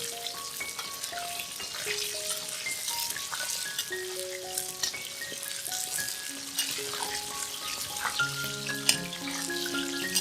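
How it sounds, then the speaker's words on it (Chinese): King oyster mushroom pieces deep-frying in hot oil over high heat with basil leaves added, a dense continuous sizzle and crackle, close and steady, with no talking. "再将全部炸好的杏鲍菇回锅用大火炸至酥脆"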